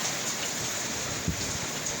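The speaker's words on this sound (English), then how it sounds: "it's been raining for like a long time, like 4 to 5 days" Heavy rain falls steadily through a windy storm, a dense even hiss with no pauses and a faint low thump near the middle.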